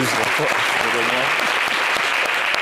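Studio audience applause on a French-language television talk show: a dense, steady wash of clapping from start to finish, with voices blending in underneath.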